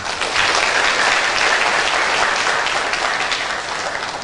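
An audience at a Buddhist Dhamma talk breaks into loud, sustained applause, a dense, even roar of many clapping hands with no speech over it.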